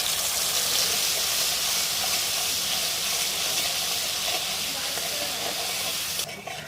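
Spiced pointed gourd drops into a hot pan of oil with whole cumin and sizzles loudly and steadily, a dense close hiss that eases slightly near the end.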